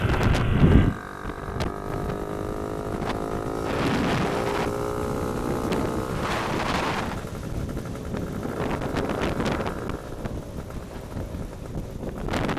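A freshly rebuilt Suzuki GT300LC two-stroke twin, new bore and piston, cruises in top gear at about 30 mph and 2,500 revs, its steady engine drone mixed with heavy wind buffeting throughout, with no speech.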